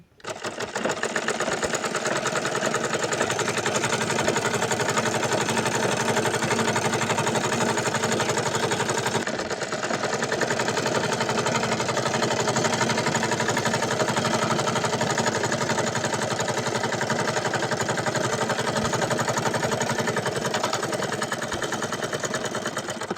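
A sewing machine runs a straight side seam on a long round dress, a loud continuous motor whir with rapid needle chatter, briefly pausing once before carrying on.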